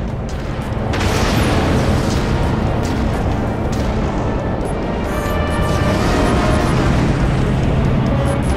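A catapult weapon fires aboard a warship in the Dreadnought video game, producing a sustained loud booming roar with heavy low rumble that swells after the first second and persists throughout.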